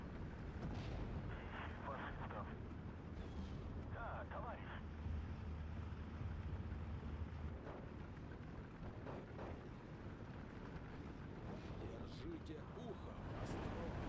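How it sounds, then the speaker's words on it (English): Artillery shells explode in the WWII strategy game Steel Division 2, with repeated booming blasts and rumbling impacts layered over continuous battlefield noise, mixed with talk throughout. "I think I'm hitting my own guys here with artillery shells"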